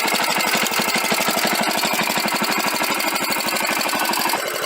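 A restored Wheel Horse garden tractor engine, with new fuel lines, breaker points and ignition coil, runs steadily at close range with a rapid, even firing pulse and no talk over it.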